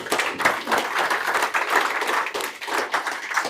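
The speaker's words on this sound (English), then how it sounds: "Let's give him a round of applause." A crowd applauds steadily, a dense wash of many hands clapping at fairly constant loudness throughout, with no voices over it.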